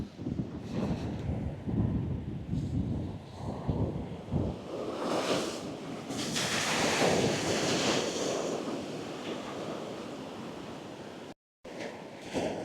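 Surf washing onto the shingle beach at Charmouth, Dorset, on an early morning, a steady rushing wash with swells of louder breaking surges and gusts of wind buffeting the microphone, no voices.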